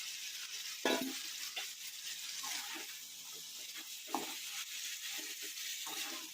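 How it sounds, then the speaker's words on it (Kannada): Fried drumstick pieces are added to sizzling oil and stirred, giving a steady low sizzle broken by a few sharp clattering scrapes of the spoon against the pan. "ಈಗ ಹುರ್ಕೊಂಡಿರೋಂತಹ ನುಗ್ಗೆಕಾಯಿನ ಇದಕ್ಕೆ ಸೇರಿಸ್ಕೊತಾ ಇದ್ದೀನಿ"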